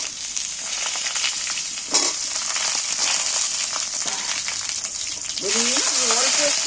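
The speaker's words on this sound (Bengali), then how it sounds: "আলুগুলো আমার লাল লাল হয়ে এইবার আমি কাটা বেগুনগুলো তুলে দিচ্ছি" Cut eggplant goes into a pan of browned frying potatoes, and a steady sizzle and the scrape of stirring follow. The sizzle briefly swells when the pieces go in, and a voice talks faintly underneath near the end.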